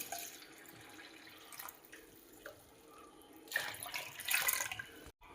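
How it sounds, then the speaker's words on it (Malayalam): Water poured into crushed arrowroot powder in a mixer jar, four cups' worth, comes as faint splashing bursts against a quiet background, with the strongest pour near the end. "4 കപ്പ് വെള്ളം ഈ പൊടിയോടൊപ്പം ചേർത്ത് കൊടുക്കാം."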